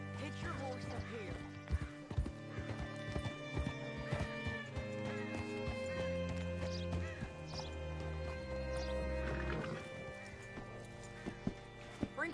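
Horse hooves clip-clop in Red Dead Redemption 2, with whinnying and neighs among them, all mixed with game music and voices that talk throughout.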